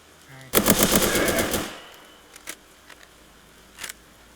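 A G3 battle rifle fires in the video game Reign Fall: a loud rapid automatic burst lasting about a second, followed by a few sparse, quieter single reports.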